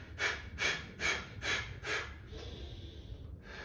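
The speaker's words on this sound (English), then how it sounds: "I'm going to be telling them to breathe like a dog" Rapid panting breaths in an energizing breathing exercise, like a dog panting: five quick, evenly spaced exhalations, close and fairly soft, then a quieter trailing breath.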